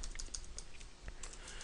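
Faint, quick keyboard clicks from typing on a computer, a light irregular patter of keystrokes close by with no voices.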